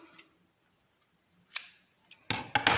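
Scissors snipping crochet yarn up close, a few sharp quiet clicks spread out, then a couple of louder crisp cuts at the end, with near silence between them.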